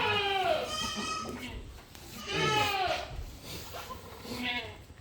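Goats bleating at a goat farm during a daytime kidding, several harmonic calls overlapping at close range, loud and repeated with short gaps between them.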